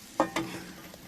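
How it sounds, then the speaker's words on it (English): Gentle stirring of mushrooms cooked in ham fat with sage and parsley into beef in a pot, two soft scraping strokes close by over a faint sizzle, with no talk. "A little gentle stir around for them to mix in like so"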